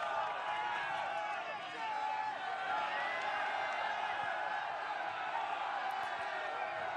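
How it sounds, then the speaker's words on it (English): A large cyclocross crowd in Diegem roars and cheers continuously for a race leader, a dense, steady wall of distant voices and whoops with no break. "And the crowd roaring him on."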